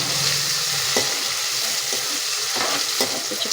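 Flat beans being stirred into a tomato curry in a pan, with a steady frying sizzle throughout and a few scraping stirs of the spoon against the pan, close and fairly loud.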